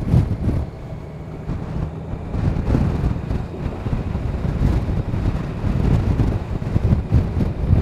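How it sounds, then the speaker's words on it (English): Gusty wind buffets the microphone at Witless Bay, a continuous low roaring rumble that swells and eases without pause. "It's pretty windy today,"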